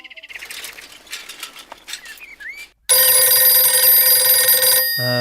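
A telephone rings loudly and continuously in the second half, a bright, steady electronic trill that cuts off abruptly. Before it come chirping birds and scattered light sounds.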